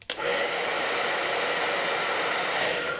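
A hair dryer, used to dry tools after rain, switches on and blows in a loud, steady, close-up whoosh that holds throughout.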